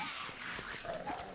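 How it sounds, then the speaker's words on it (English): Dog attacking in the video game Kenshi, with faint yips and growling barks in short bursts blended into a noisy fight background. "My dog is gonna eat him up."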